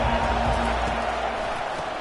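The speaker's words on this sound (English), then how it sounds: "This crowd trying to make life miserable for this offense." Stadium crowd roars steadily in College Football 25, a dense, loud wash of massed voices that holds for the whole stretch without letup.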